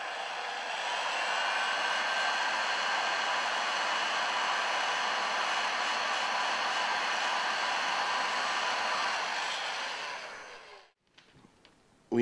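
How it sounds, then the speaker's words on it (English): A DIY paint-stripping heat gun blows steadily and fairly loud as it warms heat shrink on a wire terminal, a continuous airy hiss that cuts off near the end, leaving a few faint clicks. "slide the heat shrink to the end of the terminal and warm it with the gun"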